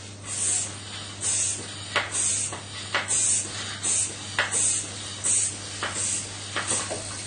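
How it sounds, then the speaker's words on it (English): Repeated short hissing sprays of diluted washing-up liquid from a spray bottle onto a boat deck, about a dozen bursts in a steady rhythm, close and fairly loud. "that's why I say spray it with fairy liquid"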